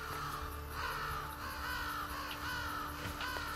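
Ravens cawing in Assassin's Creed Brotherhood, several harsh caws repeating at intervals over a low steady ambient drone, moderately close, with no talking.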